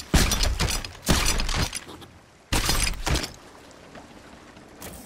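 Harpoon strikes against a ship in a pirate video game, three sharp crashing impacts with a shattering, splintering edge, each followed by a brief rumbling decay, spaced roughly a second or more apart, then a fourth hit at the very end.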